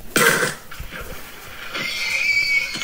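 A horse in Minecraft gives a short, raspy whinny, then a second, longer call with scattered huffs, close and fairly loud, with no talking.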